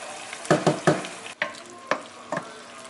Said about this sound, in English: Stir the pasta around.